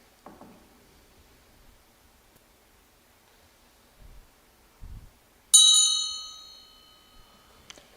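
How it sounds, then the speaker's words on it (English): A bell is struck once, ringing out bright and clear, its tone fading slowly over about two seconds in a quiet room, with a few soft thumps and rustles before it. "I was waiting for the bell. There's the bell."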